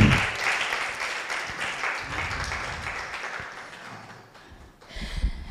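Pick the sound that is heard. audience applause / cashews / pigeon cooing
audience applause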